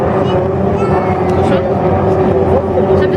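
Racing motorboats on the water, a steady droning engine whine carrying across the course at a moderate distance, with people talking nearby over it.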